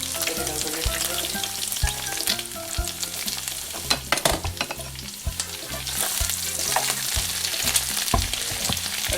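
Garlic fries in a hot pan alongside shrimp, giving a loud, continuous sizzle with repeated stirring clatters and scrapes of a utensil, heard up close.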